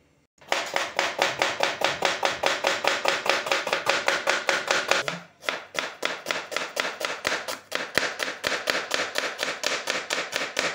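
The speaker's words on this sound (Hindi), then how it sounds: "पहला प्याज कट दे आ।" Steady, rapid knife chopping of onions on a board, crisp regular taps continuing throughout with a short break midway, close and fairly loud.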